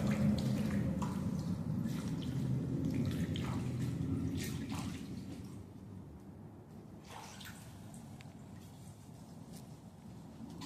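Water sloshes and splashes around someone wading through deep water in an underground culvert, a continuous close churning that fades slightly toward the end, with small drips and splashes scattered throughout.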